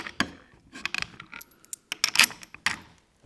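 Bessey K Body clamp extenders being handled and fitted onto clamps, giving a series of sharp metallic clicks, clanks and rattles in irregular bursts, close and fairly loud with brief pauses between.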